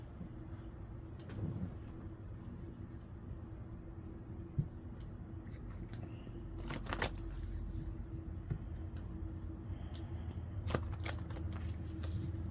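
Oracle cards being shuffled and pulled from a deck, soft papery riffles and slides with a few sharper snaps and taps, close by and quiet, with no talking.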